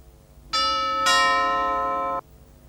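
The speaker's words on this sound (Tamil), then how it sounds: "காலிங் பெல் அடிக்குது, யாருன்னு போய் பாரு." A two-tone electronic doorbell chimes once, a bright ding followed by a dong that rings for about a second before cutting off, in a quiet room.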